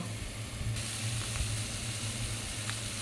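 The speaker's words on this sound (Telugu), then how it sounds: "మళ్ళీ కాసేపు సిమ్లో పెట్టి అప్పుడప్పుడు ఇట్లా కలుపుతూ ఉండాలండి" Ridge gourd and tomato sizzle steadily in a pan over a low flame, a soft continuous frying hiss with faint stirring scrapes close by.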